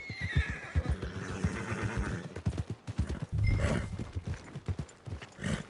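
In a PS4 video game, a horse near the stables gives a loud whinny over a steady clip-clop of hooves, with other mechanical game noises in the background.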